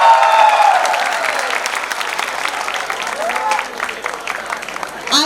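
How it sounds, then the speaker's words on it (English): Applause from a film festival audience greets guest of honor and actor Jackie Shroff, a dense, loud wash of clapping that holds steady for about five seconds, with a voice briefly heard over it at the start. "A very, very big round of applause for our guest of honor"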